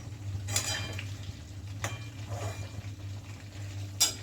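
Amla (Indian gooseberries) lifted off a frying pan with a spatula after being fried for pickle, giving a few scrapes and clinks against the pan over a low steady kitchen hum, with no talking.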